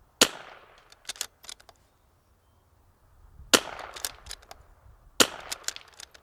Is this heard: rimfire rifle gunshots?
yes